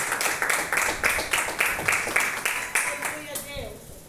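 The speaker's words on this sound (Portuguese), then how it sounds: "Vamos assim receber o servo do Senhor com as palmas bem fortes para Jesus, amém?" A church congregation claps hands loudly in a steady rhythmic beat, many palms striking together in even pulses that fade toward the end, while a voice speaks over the clapping.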